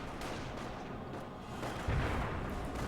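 Muffled booms of a mortar half-track artillery barrage in Company of Heroes, a steady rumble of distant blasts with a heavier impact near the end, under background battle noise.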